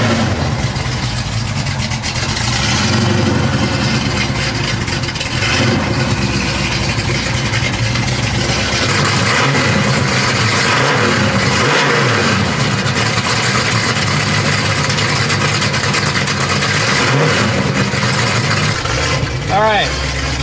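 A big Pontiac 455 V8 engine idles loudly with a deep, lumpy rumble, rising in a few short revs before settling back.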